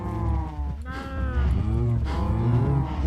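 Several cows moo in a crowded pen in Minecraft, long drawn-out lowing calls overlapping one after another at close range, with no talk.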